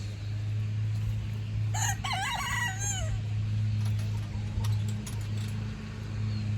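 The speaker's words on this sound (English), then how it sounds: "She is a sweet chicken." A hen in a backyard vegetable garden gives one clear, wavering call of about a second, close by, with fainter clucks afterward over a steady low hum.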